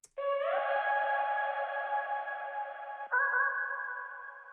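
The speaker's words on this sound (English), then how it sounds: "we can just solo our vocal chops" Sustained synthetic vocal chop tones from a melodic drill beat hold a steady chord, then shift pitch about three seconds in, fading slightly at the end; no drums or talk.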